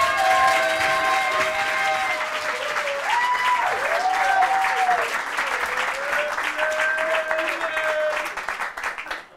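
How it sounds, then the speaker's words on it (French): Audience at a comedy show applauds loudly for a stand-up comedian, dense continuous clapping throughout, with a voice speaking or calling over it midway and the clapping thinning near the end. "Je vous demande d'applaudir très fort l'amour"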